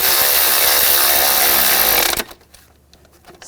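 A power tool whirs loudly and steadily for about two seconds while bolts are driven into a power steering reservoir bracket on a 2000-2006 BMW X5, then cuts off abruptly, leaving faint workshop clatter.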